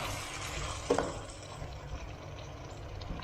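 Green peppers, onions and tomatoes being stirred in a pan, a quiet steady sizzle with a soft scrape of the utensil near the start.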